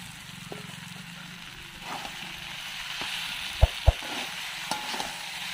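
Potato pieces for an echor chingri curry fry in hot oil with a steady sizzle, broken by a few sharp clinks of a spoon against the pan as they are stirred.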